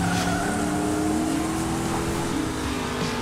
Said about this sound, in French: Pilote, faites chauffer vos moteurs.